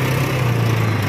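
A steady, close engine drone comes from an Easyride 150N scooter with a broken belt and an oil leak, holding one even low hum throughout with no other sounds.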